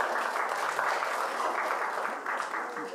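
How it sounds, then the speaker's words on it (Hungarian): Audience at a live music festival talk session applauds, a continuous wash of clapping at steady moderate loudness, softening slightly toward the end. "mert tapsot kérünk szépen."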